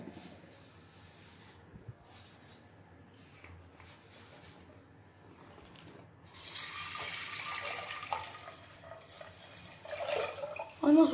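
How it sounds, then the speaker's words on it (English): About a liter of water pours steadily into a metal cooker holding dal, getting louder and splashier partway through, with a clank near the end. "With that I will add the water."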